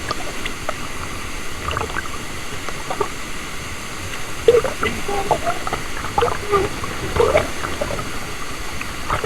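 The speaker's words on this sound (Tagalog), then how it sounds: "Waterfall!" Rushing water from a waterfall in a canyon on Cebu during canyoneering, a steady broadband wash with splashes, while people shout and call out excitedly over it.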